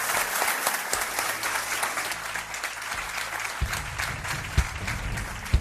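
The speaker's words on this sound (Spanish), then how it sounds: "Os pido un aplauso para ellos." Audience applause fills a studio at the end of a television talk show segment, a steady wash of clapping from a live crowd that swells with a few sharper claps near the end, with no voices over it.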